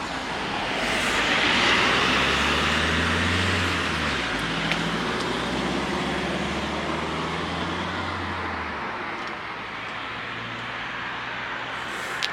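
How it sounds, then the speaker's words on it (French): A 2022 Shelby GT500 engine and exhaust, heard as a deep, loud rumble that swells and then settles into a steady roar, with traffic-like noise underneath and no talking. "Déjà d'origine, la voiture fait un bruit sensationnel. Et là, c'est simplement démoniaque."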